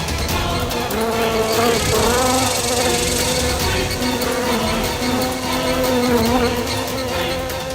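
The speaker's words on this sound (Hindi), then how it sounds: "मक्खी" A housefly buzzing steadily and loudly close by, its droning whine wavering in pitch as it moves, continuous throughout with no voices.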